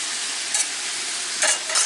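Finely chopped garlic sizzles in a hot pan, a steady loud frying hiss with a few brief stirring scrapes layered on top, close by and with no voices.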